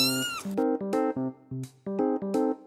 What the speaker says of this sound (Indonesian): Eh, ada anak kucing.